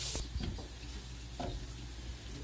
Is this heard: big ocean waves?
no